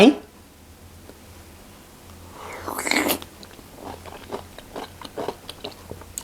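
Someone bites into and chews spicy Korean cockle salad, with a wet crunch followed by soft, close chewing and faint mouth noises.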